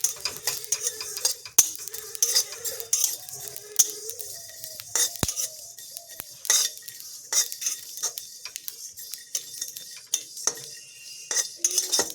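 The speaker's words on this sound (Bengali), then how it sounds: "নাড়াচাড়া করে আমি ভালো করে ভেজে নেব।" Whole spices for a fuchka recipe are stirred and dry-fried in a hot kadai, giving a run of soft scraping and metallic clinks from the stirring spoon against the pan, fairly quiet and without speech.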